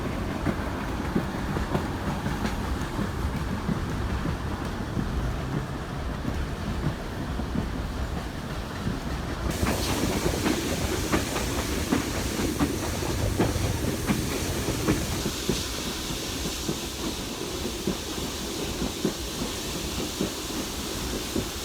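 Steam train carriages rolling along rails, a steady loud rumble with rhythmic clickety-clack of wheels over joints and a hissing wash that brightens partway through, with no talk.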